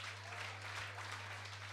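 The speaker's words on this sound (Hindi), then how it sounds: "ताली बजा दो।" A gathering at a Jain monk's religious session bursts into clapping, a brief dense patter of many hands with an electrical hum underneath, fairly soft and without talk.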